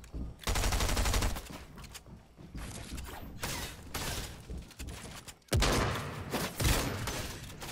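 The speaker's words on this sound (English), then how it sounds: "Oh, yep, definitely getting shot at." Gunfire in the Fortnite video game, with dense bursts of rapid shots and mechanical clatter running loud and close through most of the stretch, briefly dropping out before another heavy volley.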